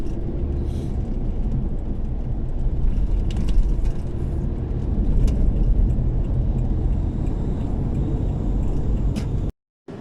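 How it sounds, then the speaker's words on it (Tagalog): Steady road traffic on the NLEX expressway in the Philippines, a continuous loud rumble of passing cars heard from inside a moving vehicle, with no talk, cutting off abruptly near the end. "medyo marami lang sasakyan ngayon dito sa NLEX"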